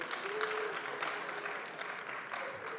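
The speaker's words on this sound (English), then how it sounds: "Let's give him another big round of applause." Conference audience applauding a presenter at a leadership event in Las Vegas: a continuous, even patter of many hands clapping, moderate in level and unbroken across the moment.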